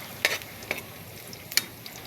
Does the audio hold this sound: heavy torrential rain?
no